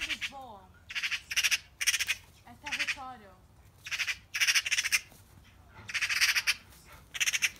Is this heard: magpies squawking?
yes